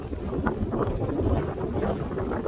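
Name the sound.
strong wind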